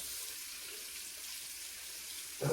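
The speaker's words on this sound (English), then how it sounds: "then we start warm water" Warm water streams steadily from a tap into a sink as a German SG 98 bayonet is being restored, a constant close hiss with a brief clatter at the end.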